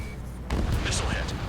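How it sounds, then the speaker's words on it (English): A missile strikes a target in the Ace Combat 7 air-combat game, a sudden loud blast bursting in at mid-clip and rumbling on amid game sounds and voices. "Missile hit."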